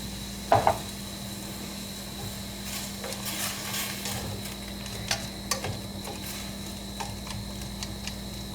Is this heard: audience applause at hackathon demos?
no